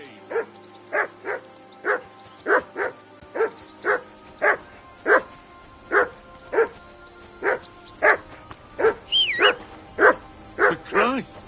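A dog barks in Kingdom Come: Deliverance II, a steady run of about twenty loud, evenly spaced woofs close by, with a few higher yelps near the end.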